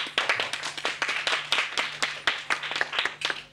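A small group of people applauds in quick, uneven bursts of hand claps, close and fairly loud, with a low steady hum beneath.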